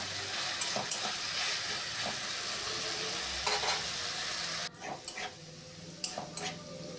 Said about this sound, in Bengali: এরপর এভাবেই কিছুক্ষণ নাড়াচাড়া করব। নাড়াচাড়া করে একটু লাল লাল করে আলুগুলো ভাজা ভাজা